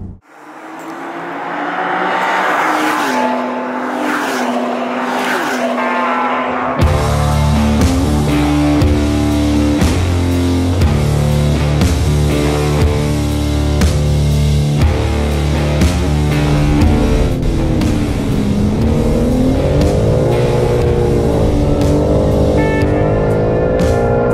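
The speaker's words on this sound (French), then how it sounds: "On arrive du côté du circuit de Magny-Cours. On passe au circuit." A BMW M3 Competition G80 drives on the Magny-Cours circuit: a sustained loud engine drone that rises and shifts in pitch through gear changes and acceleration, close up and continuous, with no talking.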